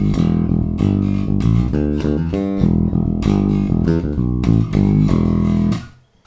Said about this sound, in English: So the first riff that we're going to look at sounds like this.